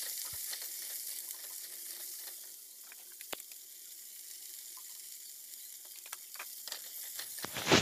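Chopped onion and whole cumin seeds sizzling in hot oil, a steady soft hiss with scattered small crackles and pops, growing louder at the end, with no talking.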